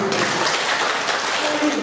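Brief burst of workshop audience applause at a university counseling session, a broad steady wash of clapping with voices faintly underneath.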